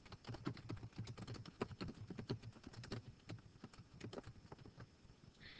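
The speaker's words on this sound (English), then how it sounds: "To send an alert, you simply type in this message area." Fingers tap out a message on a computer keyboard in a quiet room, a rapid, uneven run of light clicks that continues steadily and stands alone.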